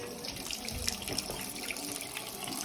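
Fresh water runs steadily from a tap at the Holy Monastery of Agios Loukas, a close, continuous splashing stream with no voices.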